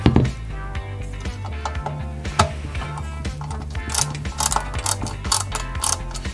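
A small screwdriver drives tiny screws into the rear of a 1/8-scale Volvo Amazon 122S model kit, giving a steady run of close, crisp mechanical clicks and ratcheting ticks at a moderate level.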